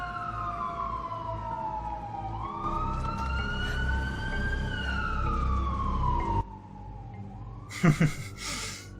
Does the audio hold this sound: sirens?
yes